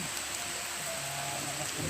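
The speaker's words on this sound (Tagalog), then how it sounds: "Grabe yung ulan." Steady, dense hiss of heavy rain pouring down on a mountain trail, constant and enveloping with no pauses, a soft low rumble beneath.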